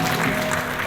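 Congregation at a church sermon applauding together, a dense steady wash of clapping that stays loud and even for under a second.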